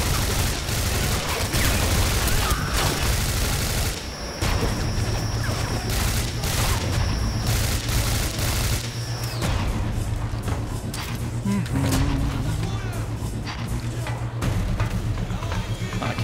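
Rapid gunfire bursts and heavy blasts crack through a firefight in the Singularity video game, loud and dense for the first several seconds before thinning to scattered shots, with a voice faintly present underneath.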